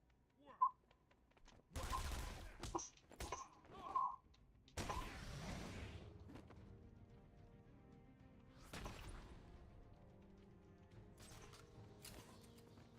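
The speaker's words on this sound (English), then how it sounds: "Those machine guns, you lose health so fast with those." Machine gun fire in a Batman video game, several loud bursts and sharp metallic shots at irregular intervals amid mechanical clatter, with a quieter rumbling tail and a voice speaking now and then.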